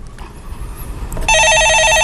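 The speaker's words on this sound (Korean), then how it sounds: "전화 받아보겠습니다" A telephone rings on a stock-market call-in show. A steady, warbling electronic ring cuts in sharply after a second of quiet background noise and continues loudly.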